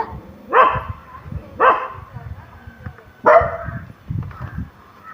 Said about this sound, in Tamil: ஏய் ரோனி, நாய் வருதோ?